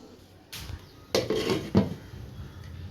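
A metal pot of Tamil-style fish curry with tamarind and masala is stirred, then clattering contact of a lid or spoon against the pot rings out twice, close and moderately loud.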